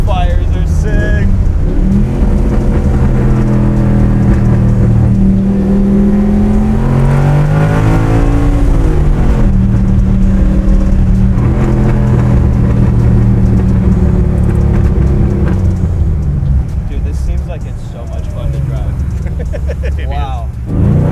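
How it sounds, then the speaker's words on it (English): Pro Street 1967 Chevy Nova under hard acceleration, its engine roaring loud and close with sweeping rev rises and falls and crackling backfires, while voices talk over it throughout. "Those backfires are sick."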